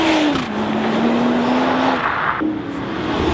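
A Noble sports car drives past at a cars-and-coffee style meet, its loud engine note sweeping and shifting pitch as it goes by close, with a brief rise partway through.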